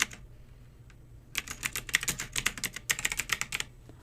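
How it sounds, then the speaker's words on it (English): Quick bursts of clicking keystrokes on a computer keyboard, close and fairly quiet, in two clustered runs with a short pause between them, no voices. "once you type out everything that you want"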